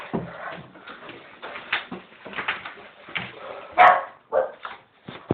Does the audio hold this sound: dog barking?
yes